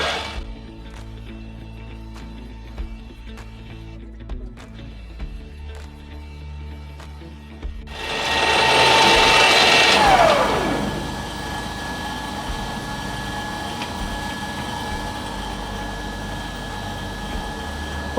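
Vintage 1900s Drummond lathe cutting down a part with a cutting tool: quiet machine hum, then a louder hissing cut swelling for a few seconds before settling back to a steady running drone.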